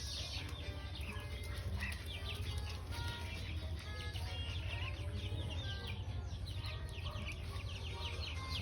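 Rhode Island Red chickens clucking and flapping their wings amid a busy flock, with chirps and rustling running steadily through a continuous, moderately loud backyard poultry scene.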